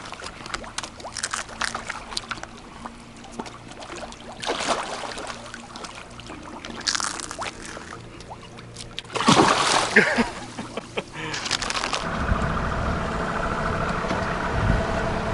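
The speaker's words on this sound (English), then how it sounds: "Look at these carp. Feeding frenzy." Carp in a feeding frenzy thrash at the water surface, giving bursts of splashing and sloshing that build toward the end, with faint voices in the background.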